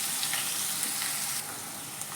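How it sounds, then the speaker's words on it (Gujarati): Two chopped onions sizzle steadily in hot oil already seasoned with cumin and asafoetida, a bright continuous frying hiss close up with faint stirring and no voices. "તેની અંદર અહીંયા મેં બે નંગ જેટલા કાંદા લીધા છે, તેનાથી આપણે વઘાર કરીશું।"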